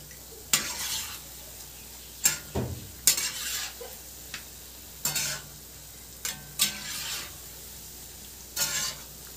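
Wheat flour and jaggery bondalu frying in hot oil, a soft steady sizzle broken by repeated sharp scrapes and stirs of a metal spoon against the pan.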